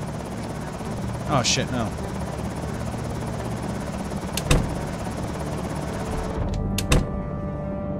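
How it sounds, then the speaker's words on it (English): A helicopter drones steadily overhead in the zombie survival video game Project Zomboid, loud and continuous, with thuds and a man's brief exclamation over it before it cuts off. "That helicopter's out there, man."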